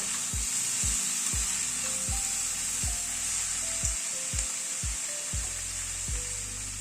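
Steady, loud sizzling of winter vegetables frying in a pan, a continuous hiss with occasional soft clinks and no voices.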